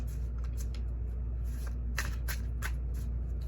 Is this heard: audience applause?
no